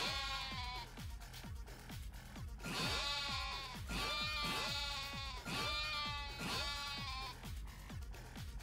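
Goats bleat in Yakuza: Like a Dragon, several overlapping calls repeating in quick succession with rhythmic tapping beneath, moderately faint and with no speech.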